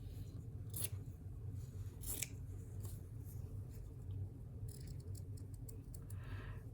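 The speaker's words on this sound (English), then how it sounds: "I'm going to cut this with the template, and then I'm going to cut it down a little more" Scissors snip through fabric with a template to shape a flower for a slow-stitch project, giving a few quiet, crisp cuts spaced across a low steady room hum, with no talk.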